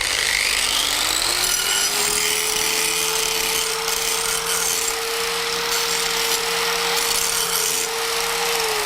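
Angle grinder deburring the cut edge of thick sheet metal, a steady high whine that spins up and holds throughout with gritty scraping on top, close and loud with no talking.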